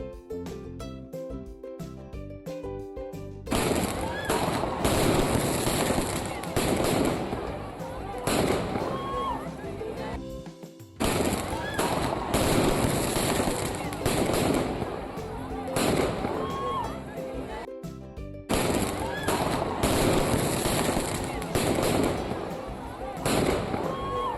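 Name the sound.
firecrackers bursting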